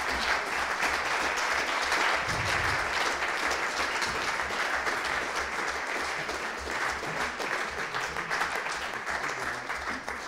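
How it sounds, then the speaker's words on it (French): Sustained, dense applause from a large audience at an awards ceremony for the Trophées Idée Alsace fills the room evenly for about ten seconds, with no one speaking over it. "Et vous pouvez les applaudir"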